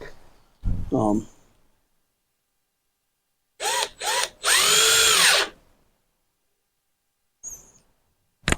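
A power drill drives 4-inch outdoor deck screws into wood for a chicken tractor build: two short whirring bursts, then one longer run of about a second, close and loud. Someone speaks briefly before the drilling, and quiet gaps separate the bursts.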